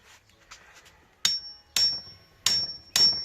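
Four sharp, loud hammer blows ring out at even intervals on a Honda CD175 engine casing to loosen its screws, after a few lighter taps and otherwise quiet.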